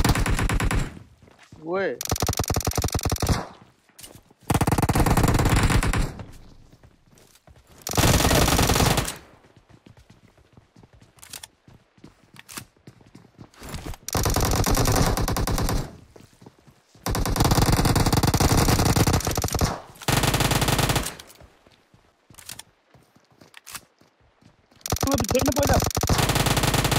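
Sustained automatic gunfire in PUBG Mobile, with long dense bursts separated by short quiet gaps, loud and close, while a voice speaks briefly between the volleys.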